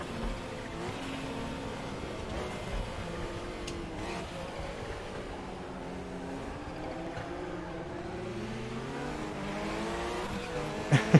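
A race car engine at Bilster Berg in RaceRoom Racing Experience, a steady droning whine that rises and falls with throttle and gear changes, running continuously throughout.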